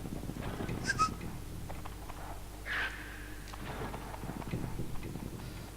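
A horse clip-clops in the Oddworld: Abe's Exodus video game. The hoof taps are quiet and steady, set against a low ambient hum, with a few squeaky game sounds mixed in.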